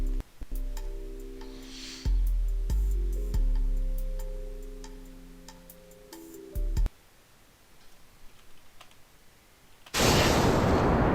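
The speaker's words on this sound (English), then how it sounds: "So the rocket is going up, this time with 3 boosters" A rocket with three boosters launching in the video game Kerbal Space Program: ticking clicks and a layered droning hum give way to a sudden loud, sustained roar near the end, with no talk.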